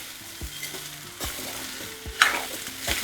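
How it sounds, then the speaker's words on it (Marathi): Grated raw banana stirred in a pan: soft scraping and clacking of the spoon over a low sizzle, heard close and fairly quiet, with a few sharper knocks of the utensil against the pan. "छान ढवळून घ्यायचं शिजायला अजिबात जास्त वेळ लागत नाही"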